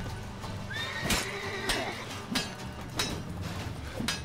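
In The Witcher 3 video game, a horse lets out a loud whinny during a fight, while hooves clop in a steady rhythm of sharp, regularly spaced strikes under low rumbling background noise.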